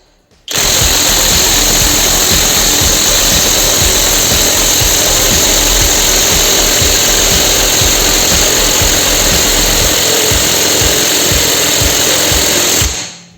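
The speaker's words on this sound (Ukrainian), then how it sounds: "Колеса тут дуже довго не відкручувалися, остання гайка прям не хоче йти." A Dnipro-M DTW 202 BC cordless impact wrench hammers at a stubborn wheel nut in a car service garage, a loud, close, rapid run of impacts that lasts more than twelve seconds before stopping abruptly.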